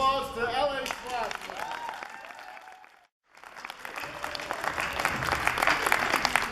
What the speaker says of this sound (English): So a big round of applause to LA Flash